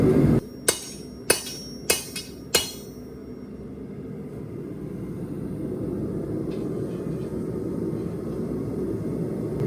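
A blacksmith hammers hot steel while forging a bracket for a chicken coop: four or five loud, ringing strikes in quick succession, then a steady rumbling background of forge noise with no further blows.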